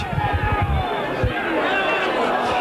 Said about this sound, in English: the crowd scream that Bradford are offside